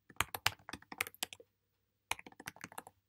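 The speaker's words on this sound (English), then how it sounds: "let's just type in the credentials here" Login credentials are typed on a computer keyboard: crisp, close clicks in two quick bursts of keystrokes with a short silent pause between them.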